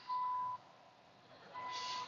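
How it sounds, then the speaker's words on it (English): Two steady electronic beeps, each about half a second long, sound at a moderate level with a gap between them. "So, yeah, sorry about the beeping."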